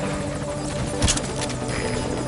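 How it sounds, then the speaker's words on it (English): An enemy helicopter in a combat video game, its rotor chopping steadily and loudly throughout with a brief burst of noise midway. "Focus all your fire on that enemy chopper."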